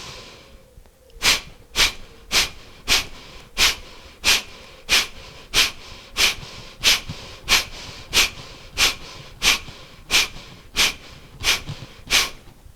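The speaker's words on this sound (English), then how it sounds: "filling lower belly, side ribs, lock that in, lock it in, drop the chin to lock the breath in" Rapid rhythmic breaths, around twenty sharp bursts at an even pace, close and clear with no talking, during a yoga breathing exercise.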